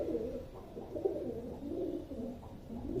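A female pigeon coos softly and steadily in low, throaty murmurs that roll on without a break, close by and fairly quiet.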